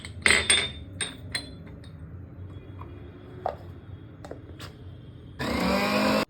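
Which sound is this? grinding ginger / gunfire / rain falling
grinding ginger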